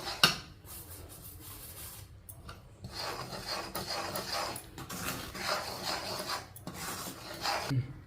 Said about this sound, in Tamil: கடலை மாவை போட்டு கிண்டுறோம்.